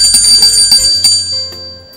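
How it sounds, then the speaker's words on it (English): A loud electric school bell rings in rapid repeated strikes, then fades out with a lingering metallic ring. "The school buzzer sounds."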